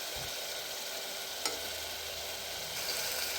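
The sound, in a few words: masala frying in oil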